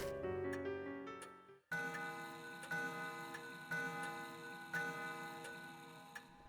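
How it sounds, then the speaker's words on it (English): In the horror game Death Mark, an old clock chimes a few resonant, ringing tones, then a steady ticking continues with regular soft knocks, clear and close, with no voices. "The clock begins to chime."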